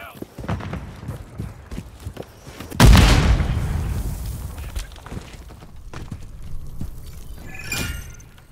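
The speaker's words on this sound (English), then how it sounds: "Throwing grenade!" A frag grenade goes off in Call of Duty: a sudden, heavy boom with a shattering blast that decays over several seconds, amid scattered gunfire and game noise before and after.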